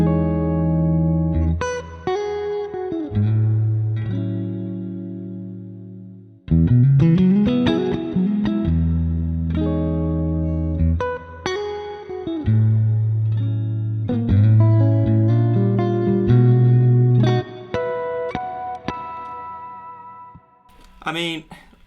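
Clean electric guitar through a Neural DSP Archetype Cory Wong amp plugin with reverb added, playing funky chord phrases and single-note lines with rhythmic pauses, close and fairly loud, alone without talking.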